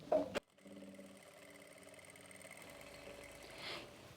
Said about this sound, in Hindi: इस तरीके से हम इसको खींचेंगे और किनारे से सिलाई लगा लेंगे